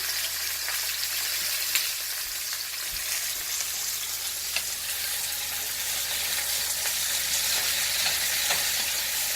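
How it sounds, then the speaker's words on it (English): Onions, mushrooms, eggplant and red peppers sauteing in a pan for shakshuka, making a steady bright sizzle and crackle with occasional pops and faint stirring taps. "Got the onions, the mushrooms, got the eggplant, and red peppers or red capsicums sauteing away."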